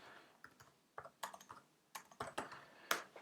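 Computer keyboard keys struck in short, irregular bursts of crisp clicks, quiet and close, with brief pauses between groups of keystrokes and no talking.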